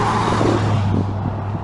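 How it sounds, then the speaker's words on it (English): A car passes by on a road in a Reno, Nevada outdoor area, a steady engine and tyre rumble that holds loud and close throughout with no talk. "there comes another car"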